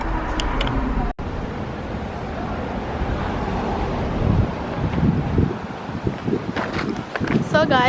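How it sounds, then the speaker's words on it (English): Wind buffets a microphone outdoors beside a parked car as a blustery, rumbling rush that rises and falls. Someone speaks over it at times. "It's kind of windy."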